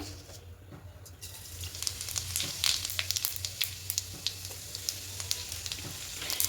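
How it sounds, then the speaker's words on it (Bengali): Whole cumin seeds sizzle in hot oil and ghee for a vegetarian khichuri, a steady close crackle with scattered sharp pops that grows slightly busier as it goes, with no talking. "তার তেলের মধ্যে ফোড়নে দেবো গোটা জিরে"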